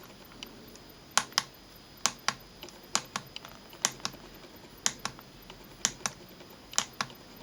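Buttons pressed on a 5-inch HD electronic magnifier give sharp plastic clicks, close and distinct, in irregular pairs and singles over a quiet background.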